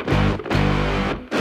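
Layered bass tones processed through iZotope Trash and tightly gated, sounding as two gritty, distorted bursts with abrupt cutoffs, loud and close with nothing else present.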